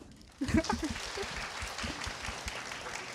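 An audience applauds interview guests, with clapping bursting in loudly and then settling into a softer, steady patter while voices talk over it.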